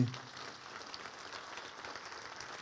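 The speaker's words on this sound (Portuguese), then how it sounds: "Vamos dar uma salva de palmas para Jesus" Steady applause from a crowd, a dense wash of clapping that holds evenly throughout at moderate volume.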